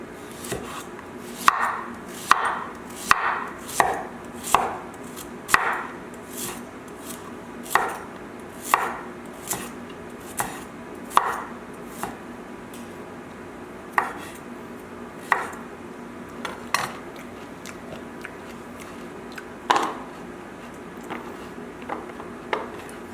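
Knife chopping parsnip on a cutting board, cut on an angle: a steady series of crisp, close blade strikes, about two dozen over the stretch, with irregular spacing and short pauses and no talk.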